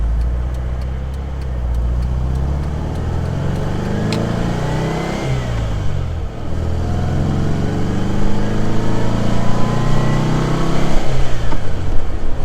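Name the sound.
classic car engine running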